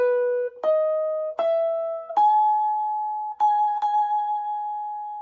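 Electric guitar picking the closing run of a song's solo, a handful of sustained single notes struck one after another and stepping upward, each ringing out cleanly and close with no talking.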